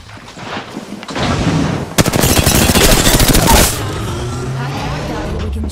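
Video game gunfire comes in a dense, loud rattle of automatic shots lasting under two seconds. It sits within a busy game soundscape, with a voice speaking around it.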